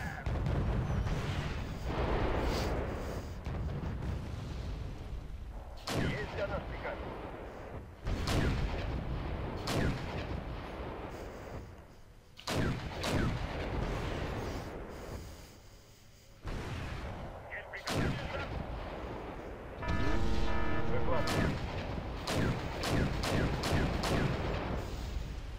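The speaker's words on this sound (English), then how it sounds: "I'm halting my tanks here and calling in extra artillery, as much as the guns can possibly shoot." Artillery fires repeatedly in a tank battle video game, with heavy booms and explosions rolling over a dense battle din for the whole stretch while someone talks over it.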